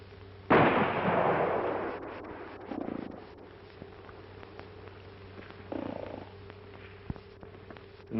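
Gunshots fired at a playing card outdoors: one loud sharp report with a long decaying tail, followed by two weaker thumping shots, then quiet with a steady low hum underneath.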